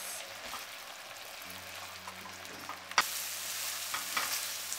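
Onion and chickpea masala cooking in a pan for kadai chole, giving a steady close sizzle with soft stirring scrapes and a sharper clatter of the spoon midway.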